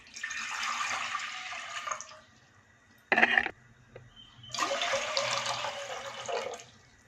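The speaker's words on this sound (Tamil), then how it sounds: "குக்கர் வச்சு ஒரு 2 சொம்பு தண்ணி ஊற்றிக்கலாம்" Water is poured into a pressure cooker on the stove to make ragi kali, in two splashing pours with a brief metallic clank between them, close by and without speech.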